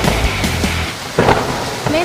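Heavy rain with strong wind in a village setting in Candirejo, Indonesia, a steady dense roar punctuated by low rumbles of thunder throughout.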